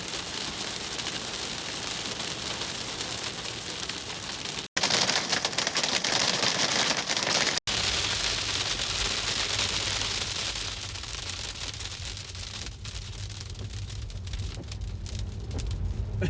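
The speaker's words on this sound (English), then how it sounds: "There's so much hail, it looks like snow." Heavy hail pours down steadily, a dense, loud hiss of countless stones striking surfaces nearby, continuous throughout with two brief cuts, and a low hum joining partway.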